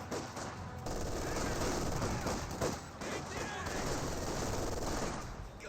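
Bursts of MG42 machine gun fire in a Company of Heroes 2 battle, dense and continuous across the clip, mixed with other gunfire and commentary talking over it.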